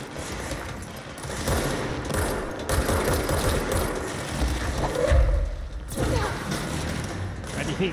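Rapid gunfire from the video game Control crackles in dense bursts throughout, loud and close, mixed with game effects and a brief tonal swell near the middle.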